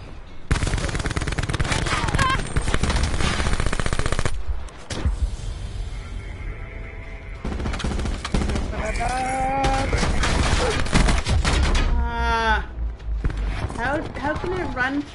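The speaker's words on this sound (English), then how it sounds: "I need my submachine gun" Submachine gun fire in a multiplayer shooter, sounding as dense rapid bursts for the first few seconds, then sporadic shots and more bursts, with voices talking over much of the action.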